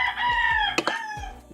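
A rooster on a rural farm in Batangas crows once, loud and close, a rising then falling call with a couple of clucks near the end.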